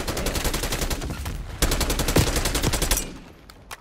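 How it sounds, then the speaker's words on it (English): Auto shotgun gunfire in Call of Duty Black Ops 6, loud close rapid shots in quick succession with a heavier burst midway before tapering off near the end. "Someone has the auto shotty."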